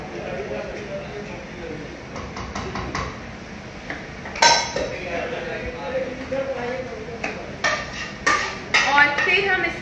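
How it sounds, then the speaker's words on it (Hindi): A knife cuts red capsicum on a board in a home kitchen while Thai red curry paste is being prepared, giving irregular chopping knocks and clinks, with talk throughout. "अब हम डालेंगे इसके अंदर रेड कैप्सिकम. तो हम कैप्सिकम को काट लेंगे."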